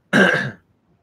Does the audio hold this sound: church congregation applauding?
no